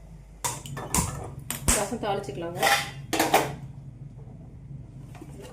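Metal cookware clanks and knocks several times as a tadka pan is set down on the stove, sharp close impacts in quick succession, then quiet.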